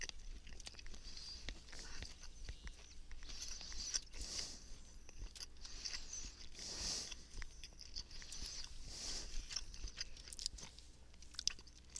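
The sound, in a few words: chewing, eating ham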